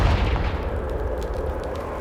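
A Confringo spell blasts a pile of debris in Hogwarts Legacy. A heavy, booming explosion lands at once and rolls on as a dense, loud rumble that slowly thins out.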